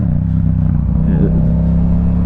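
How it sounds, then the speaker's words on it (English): A loud, throaty Yamaha MT-07 motorcycle with a Yoshimura exhaust and no baffle, idling and rumbling up close, with a deep pulsing exhaust note throughout. "I love the sound coming out of it without the baffle in it"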